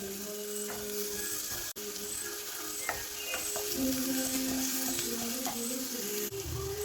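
Chopped onion and green chillies sizzle in a pan as they are stirred and sautéed, a continuous close frying crackle with scraping stir strokes and a brief pause partway through.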